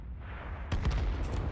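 An artillery gun fires in World of Tanks with a single sharp blast that cuts in abruptly over a low rumbling background, followed by a short ringing tail.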